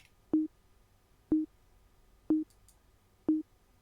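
Four short, identical synth tones with blocky on-off envelopes, evenly spaced about a second apart, clean and isolated against near silence.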